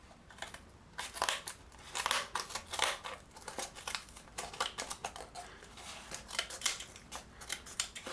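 Scissors on an Outo 6-in-1 multi-tool snipping through standard corrugated cardboard, a close series of sharp crunching cuts in irregular bursts, with no talking.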